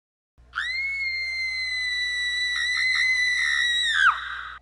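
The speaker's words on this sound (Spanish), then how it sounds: "Sound Alert, grito." A scream sound alert on a Twitch stream of Brawlhalla: one long, loud, sustained shriek held steady for several seconds, then breaking off with a falling tail.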